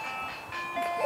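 An ice cream truck plays its steady chiming tune, the notes sustained and fairly prominent, while voices talk over it.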